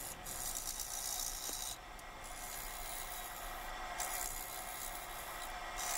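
A wood lathe spins a log at around 600 RPM as it is turned into a pedestal bowl. A faint, continuous rasping rub of the tool on wood comes with a light rattle and a few quieter dips.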